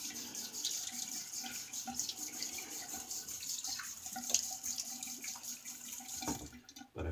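Tap water runs steadily into a sink while a Star lather catcher is rinsed, a soft continuous splashing hiss with small clatters near the end, heard alone.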